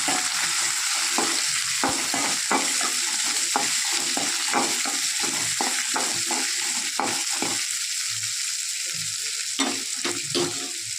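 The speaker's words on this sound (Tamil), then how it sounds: "ரெண்டு சின்ன சைஸ் தக்காளியாக எடுத்துருக்கேன் அதையும் போட்டு வதக்கிடணும்" Tomatoes and shallots sauté in a pan for a black urad dal chutney, a continuous loud sizzle cut by steady, rhythmic scrapes and knocks of a spoon stirring, no voices.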